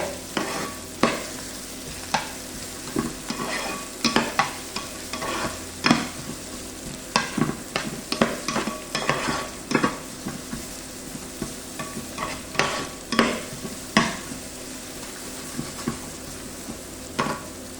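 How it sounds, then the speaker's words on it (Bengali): Onions frying in a pan until reddish-brown, a constant sizzle broken by frequent sharp scraping clacks of a utensil stirring against the pan, irregular and close; no talking. "তো প্রথমে পেঁয়াজকে থোড়া লাল লাল করে নেব।"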